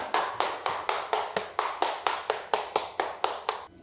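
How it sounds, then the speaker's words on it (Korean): Church congregation at Heungeop Church clapping together at the close of a Sunday service: about fifteen crisp, evenly spaced claps in a steady rhythm, then a sudden stop. "우리 하나님께 영광과 감사의 박수를 올려드리겠습니다"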